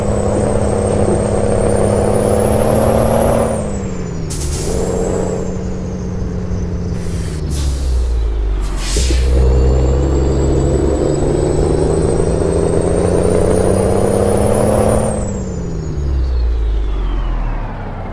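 A Mercedes Actros truck in a driving video game gives a steady, high turbo whistle that rises and falls with the engine over a deep diesel rumble. Short bursts of air-brake hiss break in midway.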